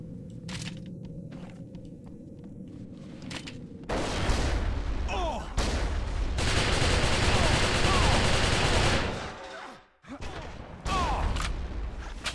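Rapid automatic AK rifle fire in an XIII multiplayer deathmatch, loud sustained bursts with a brief pause near the end, layered over game ambience.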